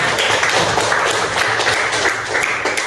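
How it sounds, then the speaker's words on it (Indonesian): Colleagues applaud during a teacher training session, a dense, steady round of clapping that carries evenly for about three seconds at close range. "Oke, terima kasih untuk rekan tepuk tangan dulu."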